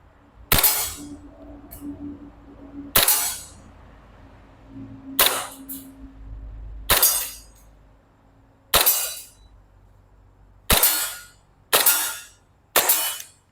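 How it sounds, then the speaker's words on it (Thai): A Golden Eagle M1911 airsoft BB pistol fires eight sharp, snappy shots one at a time, spaced about one to two seconds apart, each with a crisp clack and a short ringing tail, in otherwise quiet surroundings. "ยิงได้ปกตินะครับลูกหมดสไลด์ค้าง"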